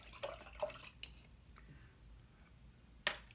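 A paintbrush is swished and rinsed in a water container, making faint, brief splashes and light clinks close by in a quiet room, with no speech.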